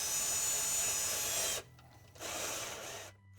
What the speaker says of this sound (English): we'll install the two self-tapping screws into the faceplate